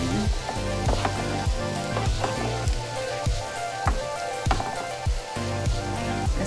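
Brussels sprouts sauté in a hot pan, giving a steady close sizzle punctuated by repeated sharp crackles and pops at an irregular rhythm, with no voices.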